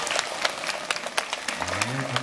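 Audience clapping after a Korean traditional music performance with daegeum in Jeonju, a moderate scattered applause heard close by, with a voice starting to speak near the end.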